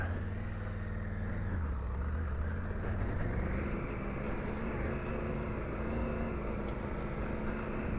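A Triumph Tiger 900 Rally Pro adventure motorcycle on knobby tires rides through a sandy wash, its engine a continuous droning rumble whose pitch rises and falls gently while it holds a steady, fairly loud level.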